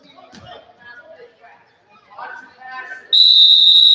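A referee's whistle at a varsity basketball game, sounding when the Orioles call a timeout: a loud, shrill, sustained blast that cuts in sharply at the end, after a stretch of play-by-play commentary and faint crowd noise.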